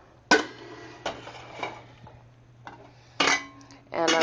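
Metal pot of stock lifted off a kitchen stove and set aside, giving a few sharp clanks and clinks of cookware spaced over several seconds, close and fairly loud, with no talking.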